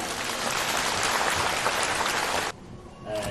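An audience at a gathering in Kaohsiung, Taiwan breaks into dense, loud applause that fills the hall for about two and a half seconds, then stops abruptly before a single voice begins speaking.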